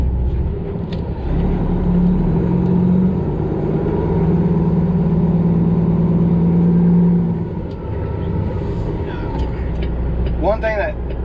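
A loaded truck with a 10-speed transmission pulls away in second gear, its diesel engine a loud, steady low drone that swells and then eases off as the fuel is released, with someone talking over it throughout.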